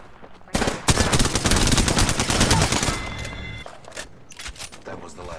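Automatic gunfire in the video game Apex Legends, a long dense burst of rapid shots lasting about three seconds, then a few scattered shots, loud and close, with a voice talking over it.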